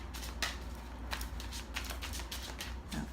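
Rapid, dry riffling and tapping of tarot cards being shuffled close by, a continuous flurry of light clicks with no talking.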